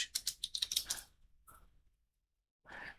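Quick, close typing on a computer keyboard in a bursty run of keystrokes, a short pause with a couple of isolated taps, then another brief flurry of keys.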